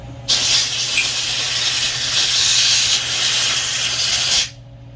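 A compressed air hose blasts grease off a Craftsman push mower in one steady, loud hiss lasting about four seconds, then cuts off abruptly. A faint low hum runs underneath.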